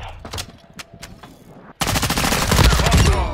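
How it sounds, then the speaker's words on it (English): Call of Duty Modern Warfare 2 gunfire: a few scattered shots at first, then from about halfway a sustained, loud burst of automatic fire with overlapping rapid reports. "Taking fire."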